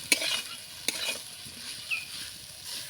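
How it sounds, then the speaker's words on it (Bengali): Potatoes are stirred with red chilli powder and cumin powder in a pan for oil-free cooking, giving a steady soft sizzle with brisk spatula scrapes and a couple of sharp clinks against the pan. "এবার মশলার সঙ্গে আলুটাকে ভালো করে কষিয়ে নেব নাড়াচাড়ানো করে"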